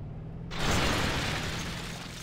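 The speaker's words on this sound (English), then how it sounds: "Epic explosion." A sudden, loud explosion in the BeamNG.Drive driving game bursts in after a moment of quiet, then holds as a dense roaring rumble that slowly fades away.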